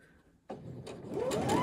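A sewing machine starts up after a quiet moment and stitches through two layers of fabric for a men's boxer short, its motor whirring and rising in speed over a brief, close run.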